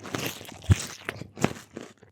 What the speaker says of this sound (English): A terrible muted crunching sound vibrated through the Peeve.